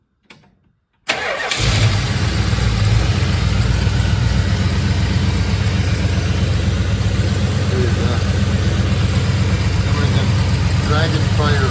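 An old Mopar car engine cranks briefly and catches after a moment of quiet, then settles into a loud, steady, slightly rough idle that runs without a break to the end.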